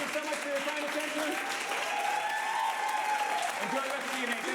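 An audience at a live evening magic show claps steadily throughout, a dense, sustained round of applause with a few cheers rising above it.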